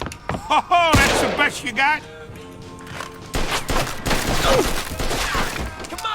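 Gunfire from the video game Mafia II: a dense run of sharp shots and bursts over the second half, loud and close, with people talking over the early part.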